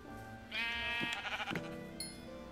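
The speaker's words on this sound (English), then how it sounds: "Yeah, more sheep." Sheep bleating in the Minecraft video game, a couple of close, wavering bleats in quick succession with a faint ambient game background.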